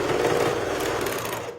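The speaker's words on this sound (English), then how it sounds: "I'm going to redo my seam again real quick" Sewing machine stitching a quilt seam again, a steady close mechanical whirr running continuously for a moment before tapering off.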